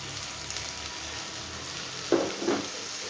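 Chopped tomato sizzles in hot oil with ginger and garlic in a pan, a steady close hiss with a couple of louder stirring bursts near the end.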